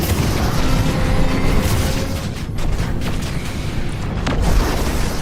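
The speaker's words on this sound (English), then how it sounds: "Firing some missiles at that player" A Megazord in Fortnite fires missiles in a dense, continuous barrage of booms and bursts, loud and close, with no talk over it.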